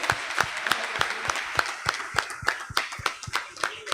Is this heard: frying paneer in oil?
no